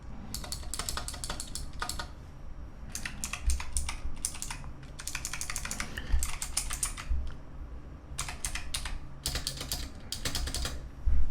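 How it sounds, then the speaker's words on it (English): Keys clatter on an experimental optical mechanical keyboard with firm stabilizers, close and crisp, coming in rapid bursts of typing separated by short pauses, with no voice. "It has good stabilizers, which means the keys don't really rattle or wobble very much at all."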